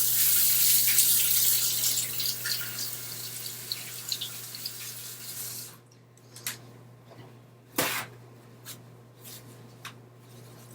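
A jalapeno is rinsed under a running kitchen tap, steady water hiss for several seconds, then the flow stops and a few scattered handling clicks and drips follow.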